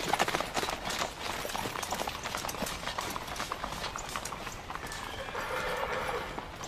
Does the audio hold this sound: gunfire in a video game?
no